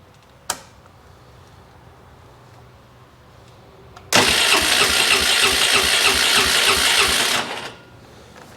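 A Polaris 300 ATV fitted with a new carburetor fires up after a short click, its engine running loud and steady for about three seconds before cutting off, with no talking.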